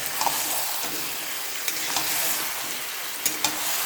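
Chicken marinated in yogurt for about an hour fries in hot oil, a loud steady sizzle with occasional scraping knocks as a utensil stirs and mixes it.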